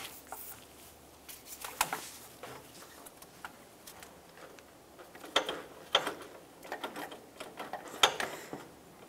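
A pry bar levers a front lower control arm on a 1996-2002 Toyota 4Runner, giving faint metallic clicks, taps and scrapes in irregular bursts, close by and with no talking.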